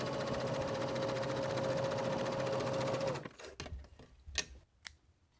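A sewing machine stitches fabric pieces for a pieced Christmas tree ornament, a loud rapid steady whir for about three seconds that then stops, followed by a few soft clicks and handling knocks.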